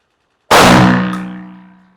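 A shotgun fired with test ammunition, a single loud sharp blast after a half-second of silence, ringing with a metallic tail that fades over about a second and a half, no talk.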